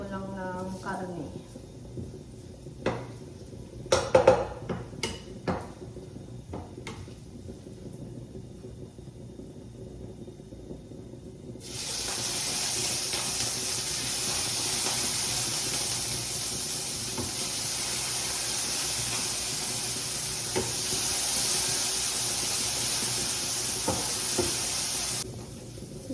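Soybean paste hitting a hot pan and sautéing, a steady loud sizzle that starts partway through and continues alone after some earlier clatter and quieter kitchen sounds.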